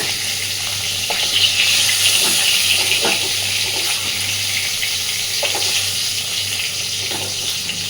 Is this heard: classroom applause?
no